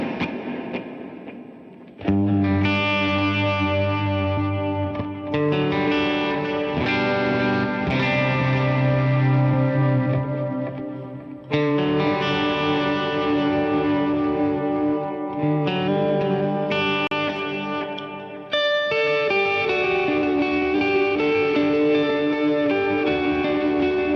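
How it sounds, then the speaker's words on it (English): Guitar played through the analog chorus effect of a Line 6 HX Stomp, with added reverb and delay; sustained distorted chords ring out with a shimmering, wavering chorus, changing several times and played alone. "Analog chorus."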